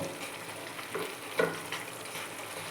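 A paneer mixture fries in a pan with a little water, giving a continuous soft hiss and sizzle, with a few close scrape-and-stir strokes rising briefly above it.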